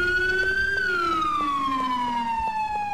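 Wailing ambulance siren in the GTA 4 video game, loud and close, sweeping high then gliding steadily downward in pitch across the clip, with faint background rumble and no talk.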